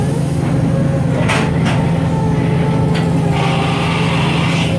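A 1998 Toyoda FA-450II horizontal machining center performs a tool change, with a few brief mechanical clunks and a sliding whoosh over a steady loud machine hum and whine.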